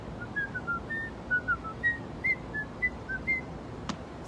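A person whistles a short tune outdoors on a rooftop, a string of bright, fairly quiet notes in an uneven rhythm with small pauses between phrases.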